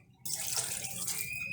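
Half a cup of water pours into a cooking pot of salted beef for namkeen gosht, a steady close splashing stream that starts abruptly and runs on alone without talk.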